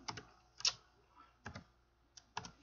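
A computer keyboard gives short clusters of close, soft keystrokes separated by brief pauses, quiet and isolated with no speech.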